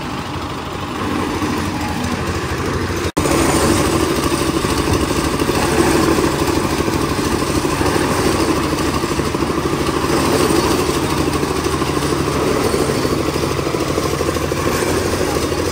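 A motorcycle engine running noisily and clattering, a steady, loud, rough drone that jumps slightly louder after a sharp click early on and continues without pause.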